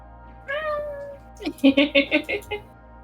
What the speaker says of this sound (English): No, that is not a good cat, sadly. Bad kitty. Only comes here to my house to make noise.